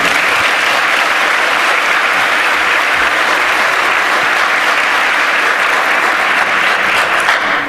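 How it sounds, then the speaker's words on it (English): A conference audience at a 27c3 tutorial session on building custom disassemblers applauds, dense, steady clapping from a large crowd that fills the room at even loudness throughout. "Give him a round of applause."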